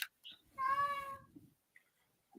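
A cat gives one clear, drawn-out meow close by, with faint brief sounds around it and no talking.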